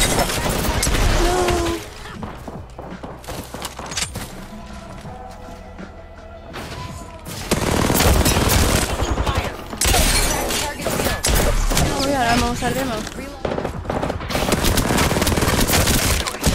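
Gunfire erupts in a first-person shooter game: loud bursts of rapid, automatic-style shots and heavy impacts that come in dense volleys, pause briefly mid-way, then resume intensely.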